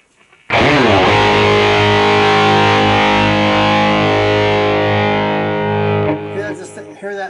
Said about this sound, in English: I'm going to add the 60s fuzz tone.